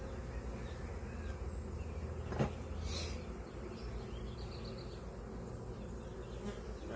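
Dense, steady buzzing of many honey bees swarming close by at a hive, constant throughout with a brief louder rustle near the middle.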